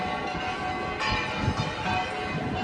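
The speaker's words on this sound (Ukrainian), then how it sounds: "Дзвін." Church bell ringing out over a busy carnival parade street in Alicante, a steady resonant peal heard amid constant crowd noise.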